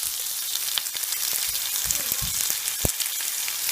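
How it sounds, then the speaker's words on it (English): Ginger, garlic, onions and lemongrass sautéing in a pan for an escargot in coconut milk dish, with a steady, close, bright sizzle and a few soft knocks of stirring. "Sauté the ginger, garlic, and onions. Then add the lemongrass."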